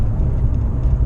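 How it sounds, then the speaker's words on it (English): A rigid road-racing sports car's engine runs loudly and steadily from inside the cabin, a continuous low rumble with no pauses. "Sorry if my car is a bit loud as well."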